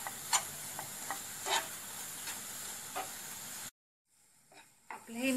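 A stuffing mixture for bitter gourd is stir-fried in oil over a low gas flame. A soft, steady sizzle carries scraping spoon strokes, then cuts briefly to silence before the stirring resumes.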